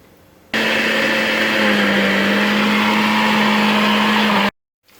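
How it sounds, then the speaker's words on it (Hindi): A blender whirs loudly and steadily for about four seconds, grinding garlic, ginger and green chili into a paste with a constant high whine, then cuts off abruptly into silence. "इस सब को हमने ब्लेंडर में ग्राइंड करके इसकी पेस्ट बनानी है।"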